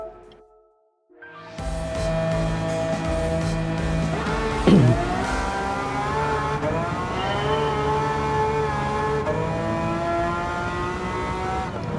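Ferrari race car engine in Gran Turismo 7 during a Ferrari Circuit Challenge, starting from near silence, then revving loudly and continuously with rising and falling gear changes and a sharp mid-clip sweep, no talk.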